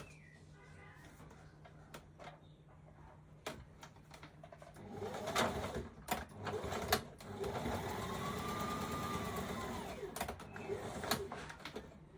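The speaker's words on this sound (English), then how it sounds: "Stitching the dart." A sewing machine stitches a dart into a skirt: a few quiet clicks first, then a loud, close whirring run of rapid stitching from about five to ten seconds, with short bursts and pauses; no speech.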